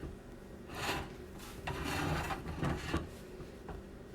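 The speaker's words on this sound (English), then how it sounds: "But most important, you just keep whisking." Cheese being whisked into a pot of Southern grits, a steady scraping rasp with bursts of rubbing strokes, close and moderately quiet, with no talking.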